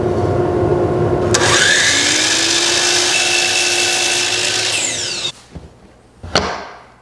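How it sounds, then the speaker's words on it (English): A power saw cuts lumber pieces for a folding table: a loud, close whine that holds for about four seconds, cuts off, then gives two short bursts. "we need to cut 4 pieces at 28¾ inches and 4 of them down to"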